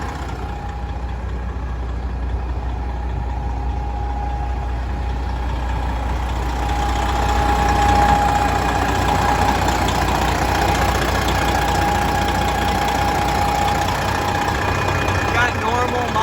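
A Detroit diesel engine in a 2016 Peterbilt 389 glider idles steadily with a deep, even rumble and faint whine, close and loud, rising slightly midway, with talk over it.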